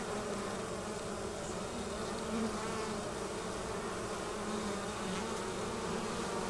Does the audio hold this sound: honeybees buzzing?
yes